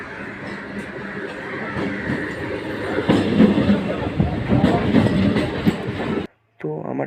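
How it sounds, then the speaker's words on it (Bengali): A train rolls into a station, a steady rumble and clatter that swells in the middle and then cuts off abruptly near the end, with no talk. "পরবর্তীকালে ট্রেন চলে এসেছিল।"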